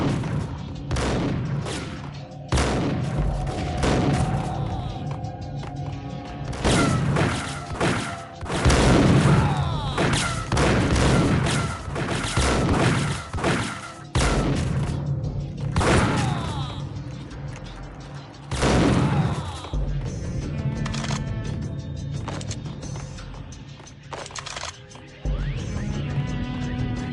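Gunfire in the game Max Payne: dense, loud volleys of shots and booming impacts fire in rapid bursts across the whole stretch, with crashes and thuds between, a brief voice appearing faintly amid the shooting.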